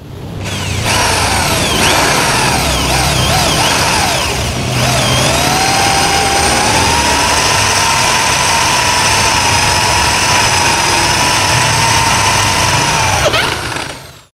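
A DongCheng DZJ02-13 electric impact drill runs steadily and loud for about fourteen seconds, its high motor whine dipping briefly near the five-second mark before settling into a continuous drone that stops at the end.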